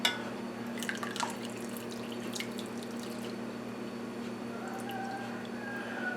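Chili pepper liquid poured into milk warming for gouda cheese, a soft steady trickle of drips and running liquid with a few brighter splashes near the start, faint and close over a low background hum.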